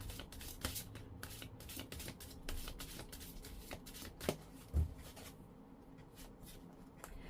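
Tarot cards being shuffled by hand in a quiet room, a steady run of soft papery riffles and slaps with a few sharper taps near the end before it settles into stillness.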